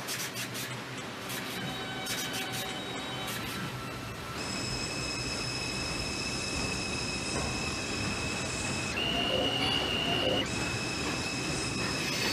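An R142 subway train on the 2 line in the Hmmsim 2 game runs continuously, with a steady rumbling roar, rail clatter and shifting high whining tones from the motors and wheels throughout.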